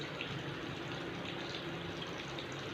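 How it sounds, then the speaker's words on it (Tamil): Sesame oil pours into a clay pot for fish curry as a faint, continuous, even trickle, heard close and alone without pause. "இதுக்கு நல்லெண்ணெய் ஊற்றணும்"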